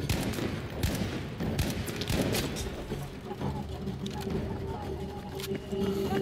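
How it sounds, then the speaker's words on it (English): Gunfire and explosions crackle through a 1942 North Africa battle in Battlefield V, with repeated sharp bursts and booms over a steady, dense din of combat. "Shots were fired."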